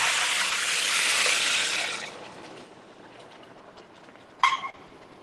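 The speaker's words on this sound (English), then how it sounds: "And we'll be adding 500 ml of water to this stock." Water is poured into a pot of simmering prawn shell stock, making a loud broadband gush that tapers away after about two seconds, followed by quieter kitchen noise and a brief splash near the end.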